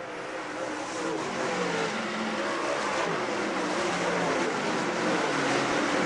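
Lucas Oil late model dirt race cars racing at Utica Rome Speedway make a loud, continuous engine roar that holds steady throughout, with no voices heard.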